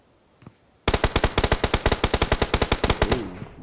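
Automatic gunfire from a battle royale esports scrim match: after a brief quiet moment, a loud, rapid burst of shots hammers steadily for nearly three seconds, then tapers off, with no voices.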